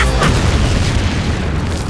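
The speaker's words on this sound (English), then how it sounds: "Explosion!" A loud, close explosion from the Deadpool video game fills the whole moment with a dense, sustained roar and heavy low-end boom that barely fades.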